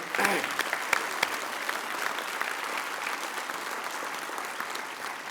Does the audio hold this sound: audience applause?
yes